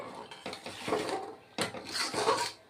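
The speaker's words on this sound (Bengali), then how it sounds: "লাড়িয়ে দিচ্ছি আরও এক মিনিট" A spoon scrapes and clinks against a cooking pot while stirring spinach curry, giving quiet, close, irregular strokes and soft knocks.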